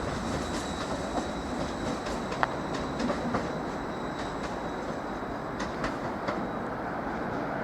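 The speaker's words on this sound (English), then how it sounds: "has just departed out of platform 4 en route to Great Yarmouth via Acle" A Class 755 train, unit 755405, pulls out of platform 4 at Norwich station bound for Great Yarmouth via Acle, giving a steady, loud rolling rumble with scattered wheel clicks and a faint high whine throughout.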